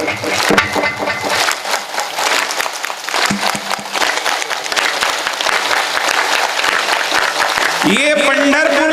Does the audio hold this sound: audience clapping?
yes